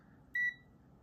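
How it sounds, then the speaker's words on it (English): A single short, clear electronic beep sounds once as a device on an 11-inch build powers up, close and alone over a faint background hum. "See, it beeped."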